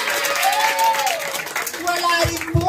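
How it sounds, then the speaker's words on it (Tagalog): Applause and crowd noise rise from the audience at a gay beauty pageant in Barangay Maunlad, Philippines, under a loud overlapping voice and a bright tonal squeal. "wala po ba ang palakpakan dyan?"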